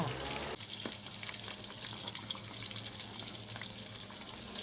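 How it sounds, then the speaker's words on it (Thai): Pork belly deep-frying for crispy pork in a home kitchen, a steady dense sizzle and bubbling of hot oil close up, with faint clinks, continuous throughout. "เราก็ทอดไปแบบเนี้ยเรื่อยๆค่ะ"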